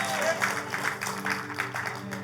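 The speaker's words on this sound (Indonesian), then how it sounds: "tepuk tangannya yang berapi-api, yang menyala-nyala buat Yesus" A church congregation claps fervently for Jesus, producing a steady, dense patter of applause beneath a voice speaking over it, with a faint musical hum in the background.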